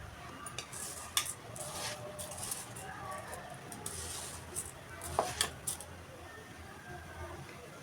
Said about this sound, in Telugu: నేను నెయ్యి యాడ్ చేసుకుంటున్నాను. ఇప్పుడు దీన్ని బాగా కలుపుకోవాలి.